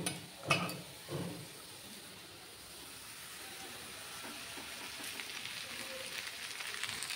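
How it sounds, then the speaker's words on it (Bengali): Chopped carrots with salt and turmeric sizzle faintly in a frying pan, with a couple of clanks from stirring early on and a soft, steady frying hiss afterwards. "এখন দিয়ে দেব কেটে রাখা গাজর, নুন আর হলুদ দিয়ে নাড়িয়ে চাড়িয়ে নিয়েছি।"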